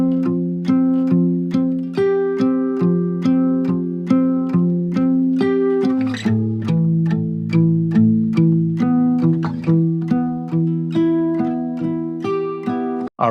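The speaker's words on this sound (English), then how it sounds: "we're gonna start with the guitars that are panned left and right" Guitar loops for a spring lo-fi beat, panned left and right, pluck steady repeating melodic notes with a brief chord change midway, clean and close, with no talking.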